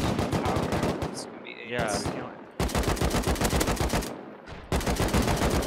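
Dense rapid automatic gunfire from a raid in the game Rust, loud and nearly continuous with short gaps, a brief spoken word over it.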